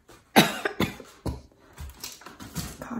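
A person coughs several times in quick, harsh bursts, close by, with short pauses between them.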